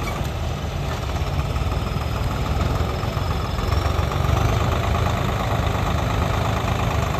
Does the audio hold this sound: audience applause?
no